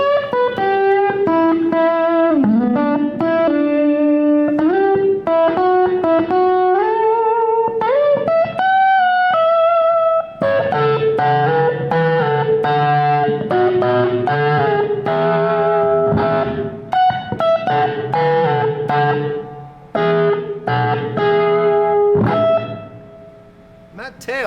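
An electric guitar played through a Watson Electric OctalPus tube amplifier with its reverb on rings out in melodic single notes and chords, each with a lingering reverberant tail, loud and steady throughout.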